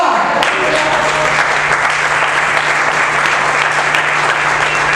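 A church congregation applauds in praise during a sermon, a steady dense wash of clapping that fills the whole stretch, loud and continuous with a faint hum beneath.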